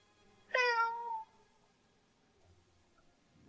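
A black cat gives a single clear meow, close and fairly loud, lasting under a second, followed by near silence.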